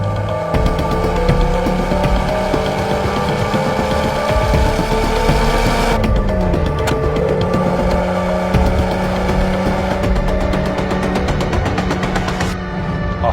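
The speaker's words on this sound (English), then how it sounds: "That third gear pull is so nice." A VW Golf VR6 engine pulls hard in third gear, a loud, steady, close engine drone that holds throughout, with a brief dip and shift in pitch about midway before it climbs again. No voices.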